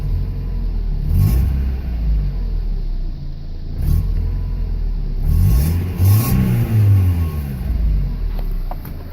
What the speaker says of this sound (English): that raspy exhaust, that's stock.